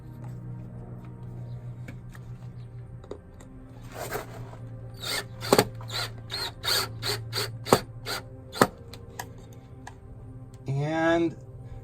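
Power drill driving a sheet metal screw into a metal window well cover bracket, a run of short repeated whirring bursts followed by a longer final spin, close by, with speech around it.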